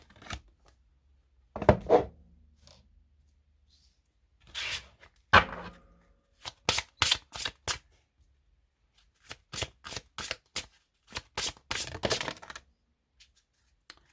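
Oracle cards from a Chemins de l'Éveil deck being shuffled by hand: several separate bursts of crisp riffling and flicking, close and fairly loud, with short pauses between them and no talking.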